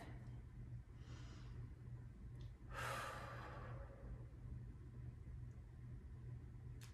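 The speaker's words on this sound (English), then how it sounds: "Big deep breath." A deep inhale and exhale during a yoga cooldown, a soft airy breath swelling near the middle over a steady low background hum, with a fainter breath earlier.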